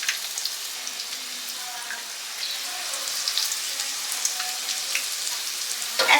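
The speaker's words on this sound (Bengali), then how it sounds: "এইভাবেই আমি আস্তে আস্তে এগুলোকে ভাজবো" Chicken satay skewers frying slowly in oil over a low gas flame, giving a steady soft crackling sizzle throughout with scattered pops, fairly close and alone.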